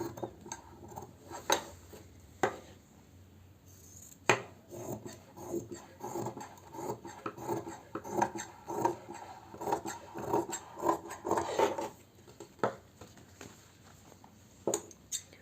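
Scissors cutting fabric for a collar-neck kurti: repeated crisp snips and rasping slides of the blades through cloth, close and fairly quiet, in short irregular bursts with no talking.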